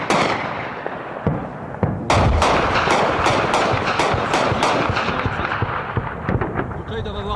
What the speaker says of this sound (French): un appui par les Américains et le canon de 20 français sur l'ennemi. C'est du gros obus, hein. C'est pour ça que ça fait du bruit.